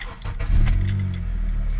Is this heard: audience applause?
no